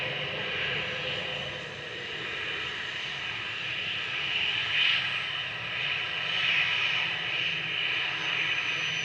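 Airbus A319 airliner at Manchester Airport, a moderate, steady jet whine and rumble that rises gently in the middle and again near the end, with no voices.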